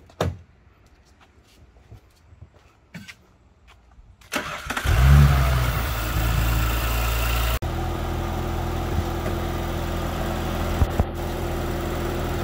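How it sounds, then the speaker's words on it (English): A 2019 Audi S5 (B9) fitted with an Injen SP cold air intake starts up and revs, a loud engine surge settling into a steady, close drone, with clicks and handling noise before the start. "Please rev it a little bit."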